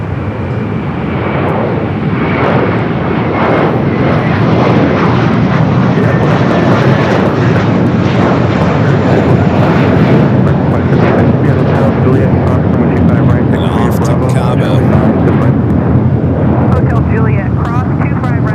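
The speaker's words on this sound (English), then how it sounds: "Still got that Delta A330 Neo heading up to 24 left" Delta Airbus A330neo jet at LAX, heading toward runway 24 left on the north side: a loud, sustained engine roar fills the whole stretch, with talk running underneath.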